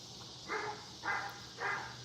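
Neighborhood dogs bark in the distance at night: three evenly spaced, muffled barks over a steady low background hum.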